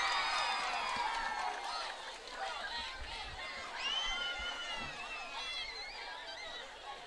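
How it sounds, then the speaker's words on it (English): Crowd at a Santa Clara versus Los Altos varsity high school football game roars and cheers steadily throughout, with whoops and scattered shouts rising over the broad din of voices. "You can hear the crowd roar."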